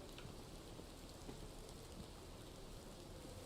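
Steady rain falls in the hunting game Hunting Simulator 2, a constant even hiss of drops on surfaces with no talk over it.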